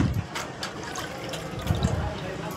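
Raw mango pieces gently rinsed and squeezed by hand in a bowl of water, with soft continuous sloshing and splashing up close while someone speaks over it.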